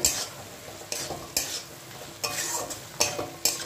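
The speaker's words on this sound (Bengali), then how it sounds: "এবারে এই সবজিটা এর মধ্যে অ্যাড করে দেবো, স্কোয়াশ আর আলুটা দিয়ে কষাবো।" Squash and potato sautéed in a pan for a vegetarian Bengali squash curry, with a soft steady sizzle broken by several sharp scraping stirs of a spatula at irregular intervals, close and fairly loud.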